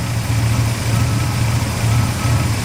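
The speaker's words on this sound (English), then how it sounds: "The compressor sounds good." Loud, steady mechanical drone of a dually pickup truck's engine idling, with a low pulsing hum of a running compressor throughout.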